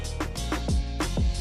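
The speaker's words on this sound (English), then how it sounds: "What you're hearing is the sound of the KTM RC16 2022 version" A KTM RC16 2022 racing motorcycle, a four-cylinder 1,000 cc machine in The Crew Motorfest video game, revs hard in quick repeated bursts, its pitch climbing and dropping with each shift.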